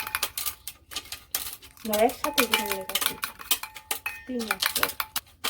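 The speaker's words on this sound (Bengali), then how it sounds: "এখন এই যে শ্যাম্পু দিয়ে নিছি এখন ভালো করে মিশিয়ে নিব" Shampoo is being mixed in a bowl with a utensil, giving rapid clinking and scraping taps in an uneven rhythm, with someone speaking over it at times.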